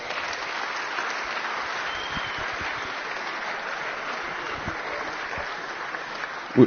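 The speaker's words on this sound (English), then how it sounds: "So can we give them one more big round of applause?" Sustained applause from an audience honoring senior athletes at a Baylor senior speeches event; steady, dense clapping fills the whole stretch at an even level, ending with a brief louder thump.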